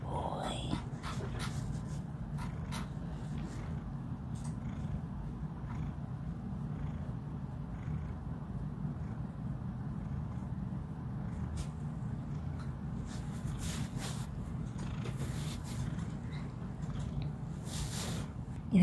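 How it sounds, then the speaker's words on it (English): A fluffy pet cat purrs close by in a soft, steady, low rumble that continues quietly throughout, with a few faint scratchy rustles over it. "Are you purring?"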